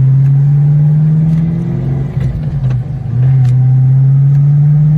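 A Suzuki Samurai engine drones loudly and steadily under acceleration, dipping briefly as it is short shifted into second gear, then pulling on again at a steady pitch.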